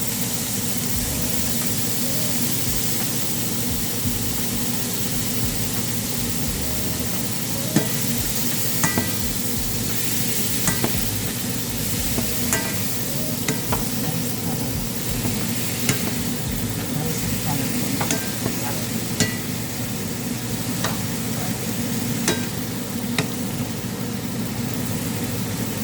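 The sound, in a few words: stir-frying cabbage and soya chunks for chow mein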